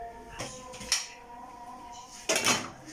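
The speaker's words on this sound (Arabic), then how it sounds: "نغسل المواعين بتاعتنا عشان نروق الحوض" Dishes are washed in a kitchen sink, with a few sharp clinks of plates and cutlery knocking together over a soft background hum.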